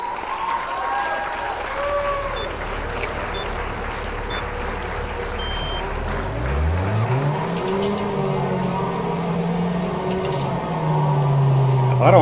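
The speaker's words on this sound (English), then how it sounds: "Let's go down trackside and start our engines." Race car engines in the Wreckfest video game idle and rumble on the grid at Firwood Motocenter, then rise into a pack of revving, accelerating engines with a climbing whine, with crowd noise and a voice talking over it.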